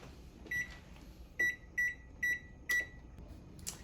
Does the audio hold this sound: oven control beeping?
yes